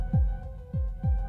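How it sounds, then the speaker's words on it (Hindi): Heartbeat sound effect in a Hindi TV horror drama: three deep, booming low thumps spaced evenly apart over a steady sustained hum, loud and close, with no voices. "उसके दिल की धड़कन फिर से शुरू होगी या नहीं"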